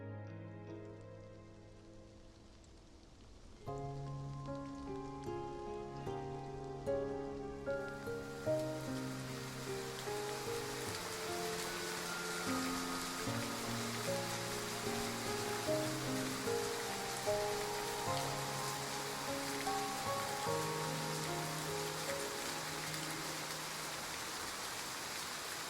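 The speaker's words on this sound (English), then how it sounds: "It's raining? The weather forecast was right after all." Steady rain patters in, building a few seconds from the start and continuing as a soft wash beneath gentle piano music, with no voices.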